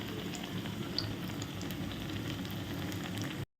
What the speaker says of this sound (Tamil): அந்த எண்ணெய் எல்லாம் நுர வந்து அடங்கிடும் கொதிக்கிறது வந்து நின்றுடும்